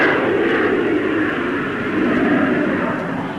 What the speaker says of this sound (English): Coming into land, the nose is lowered. And once again, parachutes slow down the landing run.